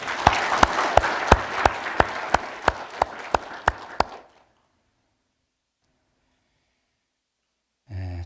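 A church congregation claps during a Sunday sermon service, steady applause with a few sharp, louder claps standing out in a regular beat, stopping abruptly after about four seconds and followed by silence and then a brief low sound.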